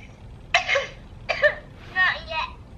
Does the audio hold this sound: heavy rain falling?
no